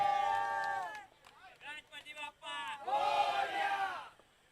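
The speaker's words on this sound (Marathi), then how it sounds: "चला ट्रॉफी घ्या. चला जोरदार टाळ्या." Crowd at the Mumbai Central Champions League 2025 trophy ceremony roars and cheers in loud shouting bursts, with a voice calling out through harmonic yells and a final surge of massed cheering near the end.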